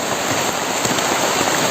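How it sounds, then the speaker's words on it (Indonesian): Steady rain falls and patters on surfaces, a dense, continuous hiss of drops that stays loud and even throughout, with no voices. "Seperti kau lihat hujan ini, sekalipun dia jatuh ke tanah, berangkat kembali, dan jatuh lagi."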